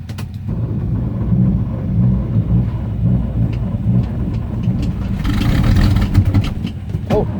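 A car engine cold-starting at -5°F, turning over and catching into a rough, uneven rumble with some revving, close and loud, with brief bursts of talk.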